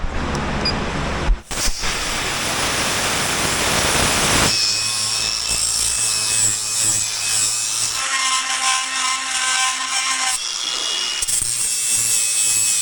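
Power tool cutting out metal mounting plates for an airbag setup, a loud continuous grinding whine with shifts in pitch and brief pauses, several bursts of cutting over about thirteen seconds without talk.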